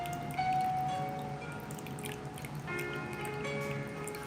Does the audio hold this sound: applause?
no